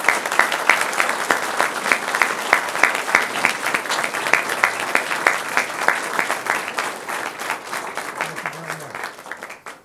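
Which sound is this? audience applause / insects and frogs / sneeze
audience applause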